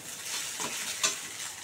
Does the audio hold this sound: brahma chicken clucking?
no